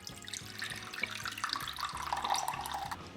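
Warm water pours steadily from a kitchen tap into a container while bread dough ingredients are measured, a continuous splashing rush with a slight gurgle, close and unbroken throughout.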